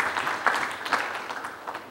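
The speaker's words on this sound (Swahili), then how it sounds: "Makofi kwa kampuni ya Jairuti." An audience at a football-related gathering applauds the Jairuti company with soft, scattered clapping that sounds faint and somewhat distant, lasting under two seconds.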